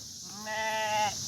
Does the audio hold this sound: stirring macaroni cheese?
no